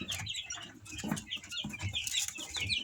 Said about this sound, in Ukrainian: Курчаток пересадили в більший ящичок.